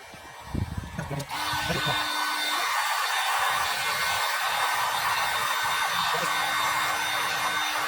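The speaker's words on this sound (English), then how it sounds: "Just use a heat gun." A heat gun switches on after a few quiet handling clicks and then blows a loud, steady rush of hot air while soldering speaker wiring in a Mercedes Sprinter.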